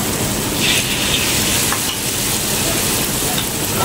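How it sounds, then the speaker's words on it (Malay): Steady sizzling of battered bananas frying in hot oil over low heat, continuous and close, with faint stirring noises and no talking. "Okey, kita mula nak menggoreng. Minyak pun dah panas."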